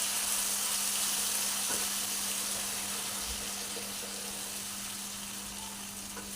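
Water poured into a pan of frying mutton and spices brings a steady loud hiss and rush that holds throughout and slowly eases, with a low hum beneath.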